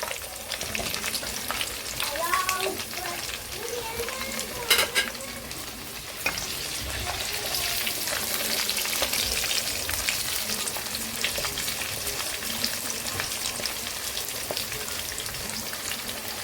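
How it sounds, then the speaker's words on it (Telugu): Okra frying lightly in oil left over from frying chicken, a steady close sizzle and crackle like rain, with occasional stirring and faint bits of voice beneath. "లైట్గా నూనెలో ఫ్రై చేస్తున్నాం అంతే"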